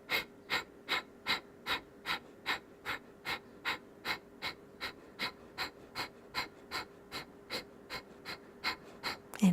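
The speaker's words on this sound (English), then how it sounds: "the exhale is like you're blowing out a candle through your nose" Forceful rhythmic nasal exhales in a yoga breathing exercise, about twenty sharp snort-like puffs at an even quick pace, close and clear, with no talking.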